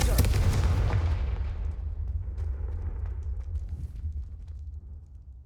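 Confringo fire spell blasts in the Hogwarts Legacy video game, a loud booming explosion at the start that rolls into a long rumbling decay with scattered crackles, and no voices.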